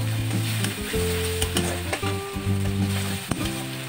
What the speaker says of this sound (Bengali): এই অবস্থায় মাছের তেলটা আমি ছেড়ে দিচ্ছি এখানে।